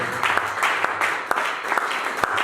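A church congregation applauds and cheers in acclamation, brisk rhythmic clapping with sharp individual claps standing out over a crowd murmur, lively and sustained.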